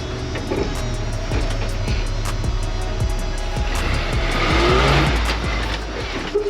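A rock crawler bumping its tire against a rock ledge in Sand Hollow, with a revving motor, repeated sharp knocks and rattles, and a louder surge of engine and tire strain near the end.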